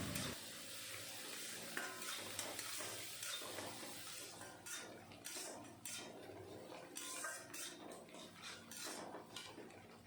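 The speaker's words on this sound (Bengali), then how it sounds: "এখন আমি ভালো মতন কষিয়ে নেব।" Spices with turmeric, sugar and salt sautéing in a pan for a katla fish curry with potatoes, a soft sizzle under clinking utensil scrapes and stirring, fairly quiet and close.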